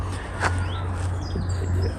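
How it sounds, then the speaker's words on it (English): Chiffchaffs call from trees on a local birding patch, brief high chirps breaking through over a steady low hum and faint background noise. "You can hear the chiff-chaffs making loads of noise."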